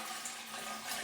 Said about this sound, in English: just give the toilet a quick flush just to empty any of the excess water out